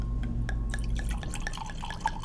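A drink poured from a large bottle makes a series of trickling, dripping splashes into a glass, close and fairly clear, with a low hum underneath and no talking.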